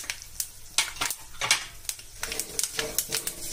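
Spoon clinks and scrapes in a small bowl as ground coriander, black pepper, white sesame seeds and salt are mixed together for a Marathi-style tempered idli, giving short irregular taps up close.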